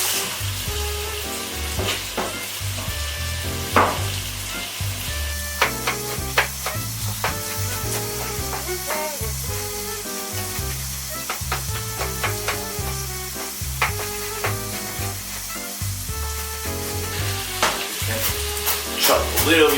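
Turkey meatballs sizzle and fry steadily in a pan, with irregular scrapes and clicks as they are stirred around, close and continuous under kitchen activity.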